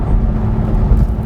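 The engine of a Ferrari 550 Maranello hums steadily from inside the cabin while it cruises in sixth gear, a loud, low, even drone with no revving.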